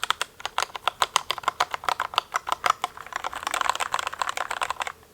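Brisk, steady typing on a DURGOD K710 wireless mechanical keyboard with high keys, close-up, each keystroke a sharp clack in an even rhythm that grows busier toward the end, with no talking.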